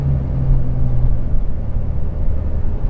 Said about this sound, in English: Little zoomy car. Zoom. Can you hear it? Zoom. Sounds like a friggin' lawnmower.